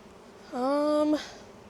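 A single insect buzzes close by at an open honeybee hive during summer, a brief tonal hum that rises, holds for about half a second and then cuts off against quiet background.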